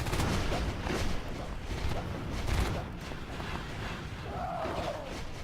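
Gunfire in the Natural Selection 2 video game rattles in a dense, noisy mix of bursts and blasts, with crowd-like battle noise throughout and faint voices underneath.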